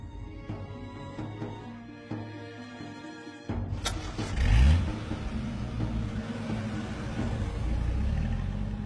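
Car engine starts with a sharp burst, then a low rumble swells and settles into a steady running drone.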